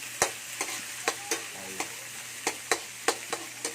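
Tomatoes sauté in a pan for sarciado with galunggong fish, a steady low sizzle under repeated sharp clacks of a utensil striking the pan in an irregular stirring rhythm.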